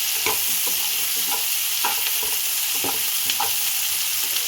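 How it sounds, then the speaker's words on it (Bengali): Green chillies and soya chunks frying in a pan, a steady close sizzle with repeated stirring scrapes at a loose, uneven rhythm. "এগুলো একটু আমি 5 মিনিট ভেজে নেব।"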